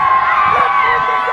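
A crowd at a wrestling event shouts and cheers in a loud, dense roar, with a voice rising over the noise for a moment.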